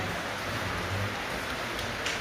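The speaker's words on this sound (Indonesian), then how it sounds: "Ini mungkin pengaruh hujan." Steady rain falling outdoors near a church service, a dense even hiss of drops that continues unbroken and fairly faint, with no voices over it.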